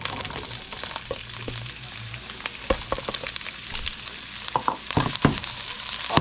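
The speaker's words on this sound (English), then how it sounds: "I'm going to start to saute the garlic and the onions" Garlic and onions sauté in hot peanut oil, a close, steady sizzle punctuated by sharp scrapes and taps of a spatula stirring the pan.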